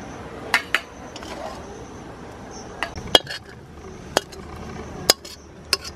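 A metal spoon clinks and taps against a greased tiffin box as the soft kalakand sweet mixture is scooped in, with sparse sharp knocks spaced over a quiet background.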